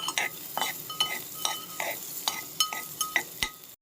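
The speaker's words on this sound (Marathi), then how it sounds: "बीट परतलं की थोडंसं गाजर आणि ते पण घालून थोडंसं परतून घ्यायचं" Beetroot and carrot being sautéed in a pan over a medium-low flame, with a spoon scraping and stirring in a regular rhythm roughly every half second over a soft background sizzle.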